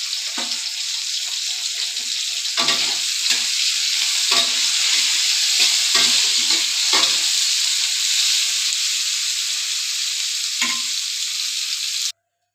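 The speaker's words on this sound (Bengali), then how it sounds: "ফুলকপি তো ভাজা হয়ে গেছে" Cauliflower frying in hot oil seasoned with salt and turmeric, a loud continuous sizzle broken by scraping stirs and pan knocks, ending abruptly.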